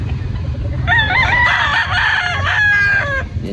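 Gamefowl rooster crowing once in a long, loud, close call lasting a couple of seconds over faint low background noise, with no talk.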